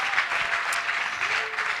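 Brief applause from the audience at a choir performance, steady dense clapping with a few brighter accents, no speech heard.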